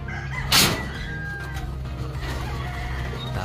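Gamefowl roosters and a hen, just released outdoors, give clucks and short calls over a steady low background, with one sharp thump-like burst early on.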